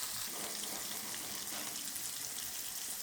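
Tilapia frying in a pan gives a steady, close crackling sizzle of hot oil that continues evenly throughout, with no talking.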